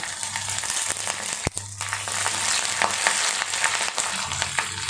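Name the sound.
sautéing garlic, ginger and curry leaves in a pan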